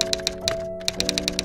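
Typewriter key strikes from a PowerPoint animation effect, a quick run of sharp mechanical clacks with a short pause midway, then several more evenly spaced taps, close and fairly quiet.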